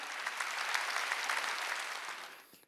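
A church congregation at a Sunday worship service claps together during the sermon, a dense burst of applause that holds steady, then fades out near the end.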